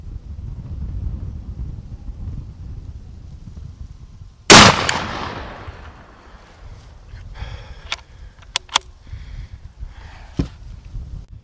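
A single sharp, loud gunshot from a CVA Endura LRH .45 caliber muzzleloader cracks outdoors against low wind noise and fades into a rolling echo, followed by a few faint clicks and knocks.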